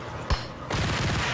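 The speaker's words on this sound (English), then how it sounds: "Someone's shooting at me." Gunshots in Max Payne, starting with a single sharp shot followed by a sustained burst of rapid gunfire, loud and close.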